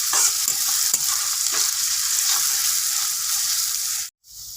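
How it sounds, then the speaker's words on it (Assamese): Onions fry in a pan while being stirred, a loud steady sizzle with rhythmic spatula scrapes repeating about every half second, cutting out briefly near the end. "পিঁয়াজখিনি দি মই ভালকৈ লৰাই দিম আৰু মই পিঁয়াজখিনি অলপ ৰঙচুৱা হ'ব দিম"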